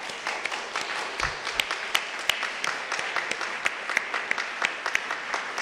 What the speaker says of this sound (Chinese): 我们拍手来欢迎你们。